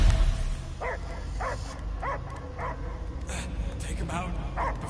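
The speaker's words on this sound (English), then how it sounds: "I hear only barking" Dog barking in the Guardians of the Galaxy video game, a series of about eight evenly spaced barks and yips over a low game soundtrack rumble, with voices speaking alongside.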